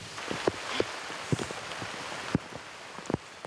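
Rain patters steadily on a surface in East Timor, with scattered heavier drops landing as distinct taps over a soft background hiss as wind and rain grow stronger.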